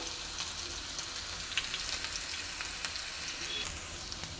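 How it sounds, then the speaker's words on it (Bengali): A pan of egg, spinach and chicken frying slowly gives off a steady, close sizzle with scattered pops and crackles, no talking over it. "আস্তে আস্তে ভাজা হোক বন্ধুরা"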